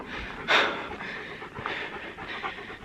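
A dog on a forest hiking trail pants steadily nearby in quick, soft breaths, with one sharper huff near the start and no talk.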